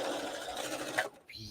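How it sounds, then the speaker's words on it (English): Close, fast mechanical whirring of a sewing machine running, stopping abruptly near the end with a small clatter. "this sewing machine is ready to go"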